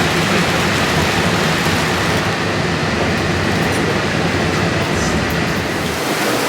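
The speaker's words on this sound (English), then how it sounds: "you do take the monorail straight into the building" A Walt Disney World monorail rolls into a station with a loud, steady broadband rumble and rushing hiss that fills the whole stretch, easing slightly toward the end.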